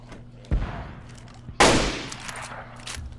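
Video game gunfire with a grenade blast: a short shot, then a louder broad burst that rolls on into scattered follow-up shots over a steady low hum.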